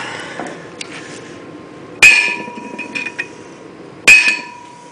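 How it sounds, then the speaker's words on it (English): Two sharp metallic hammer strikes ring out about two seconds apart, knocking a wheel bearing race out of the rear brake drum of a 1999 VW Cabrio, with lighter clinks and taps between them. "you can knock out the race by putting it in through this little crevice"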